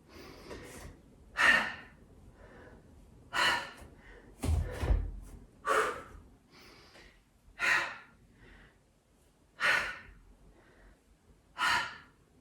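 Heavy, forceful breaths during a yoga HIIT workout come as sharp exhales roughly every two seconds, close and loud, with a single thud in the middle and no talking.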